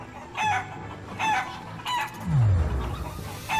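Chickens in the video game Shenmue III, several short clucks and crowing calls in a clear repeating rhythm, close and fairly loud, with no voices.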